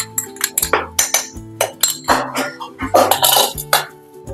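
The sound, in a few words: adding ghee-fried cashews and raisins into payasam pot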